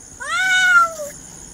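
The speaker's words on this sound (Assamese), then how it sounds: "ইয়াত এটা গাঁতৰ এটাত মেকুৰী পৰি আছে" A cat stuck in a pit at night gives one clear, drawn-out meow, rising then falling, heard nearby against a quiet background.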